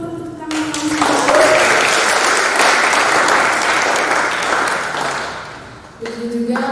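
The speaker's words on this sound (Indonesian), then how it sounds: "Boleh teman-teman tepuk tangan." A seminar audience at HKBP Depok church claps for a speaker: loud, dense applause swells in after a brief pause, holds steady for about five seconds, then stops abruptly as a voice resumes.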